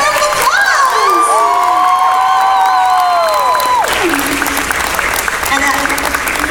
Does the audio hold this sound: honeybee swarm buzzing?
no